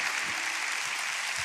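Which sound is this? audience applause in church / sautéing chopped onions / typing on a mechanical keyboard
audience applause in church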